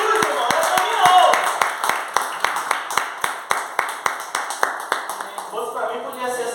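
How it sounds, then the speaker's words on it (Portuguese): A church congregation claps in unison, a steady rhythmic beat of sharp hand claps that continues for several seconds, with a preacher's voice speaking over the start. "Então, uma linda salva de palmas para Jesus, irmão."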